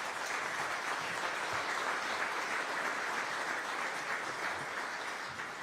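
A city audience in Aurora applauds at a state-of-innovation event. The broad, steady clapping is fairly faint, sounds somewhat distant and carries on alone throughout.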